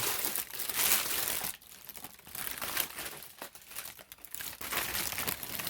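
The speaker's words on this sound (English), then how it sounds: "so I can slowly take this paper off of here" Wrapping paper crinkles and rustles as it is slowly peeled off a pair of Nike Zoom sneakers, in bursts of crisp crackling close to the mic with brief pauses and no talking.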